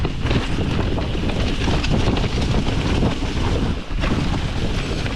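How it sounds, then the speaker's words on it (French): Strong wind buffets the microphone during a mountain bike ride through a forest, a loud, continuous roar that fills the whole passage with only a brief dip near the end. "le vent a tout niqué"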